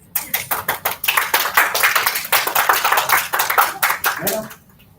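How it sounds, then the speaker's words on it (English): A small group claps irregularly at a certificate ceremony, sharp close slaps in uneven bursts with a voice heard briefly near the end before the clapping stops. "Clap."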